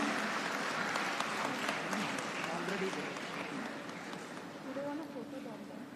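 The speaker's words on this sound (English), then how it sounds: "Let us give her a huge round of applause." Graduates and guests at a university convocation ceremony applaud a first-rank student, a broad, steady round of clapping from a large hall, moderately distant, with a voice faintly present beneath.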